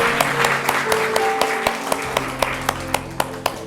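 Church audience clapping along in a steady rhythmic beat, sharp evenly spaced claps over a held organ or keyboard tone and a murmur of the room.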